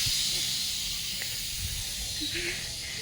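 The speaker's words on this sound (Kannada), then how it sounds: "ಪೃಥ್ವಿ ಬಂದು ವಿಸಿಲ್ ಬಂದರೆ ಆಫ್ ಮಾಡೋಂಗಿರು." A pressure cooker whistle lets out a continuous loud steam hiss that holds for the whole few seconds, with faint low background noise underneath.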